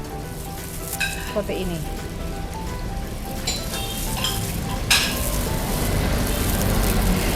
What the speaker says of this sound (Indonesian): ini kita lihat sudah ada airnya sudah mendidih